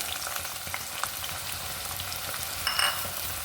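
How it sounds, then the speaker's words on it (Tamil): Onions fry with whole spices in a pan for chicken biryani, making a continuous close sizzle with soft stirring scrapes and a brief brighter rattle near the end. No one speaks. "இப்போ நம்ம எடுத்து வச்சுருக்க வெங்காயத்தை சேர்த்துக்கிடலாம்"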